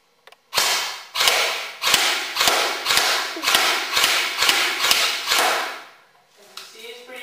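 Around ten evenly spaced semi-automatic shots ring out from a Stag 15 M4 rifle fired at a target about 40 feet away, each sharp crack followed by a short decay, loud and close.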